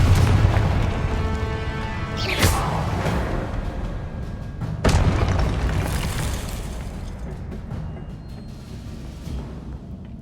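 Confringo blasting spells in the Hogwarts Legacy video game: two sharp whooshing blasts a couple of seconds apart, each followed by a rumbling explosion, over a loud, steady game soundscape.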